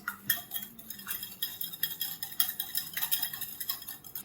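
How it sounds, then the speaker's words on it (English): An egg being whisked into a sweet mixture in a bowl, giving a steady run of quick metallic clinks and scraping taps, fairly close and with no talk. "And again, just whisk it."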